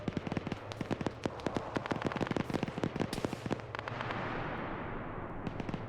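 Rapid bursts of gunfire from the video game Arma 3 crackle through a winter firefight, dense irregular shots and volleys packed close together, loud and near at first, then thinning into scattered pops over a steady background rumble.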